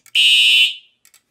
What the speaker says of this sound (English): now we got the horns going again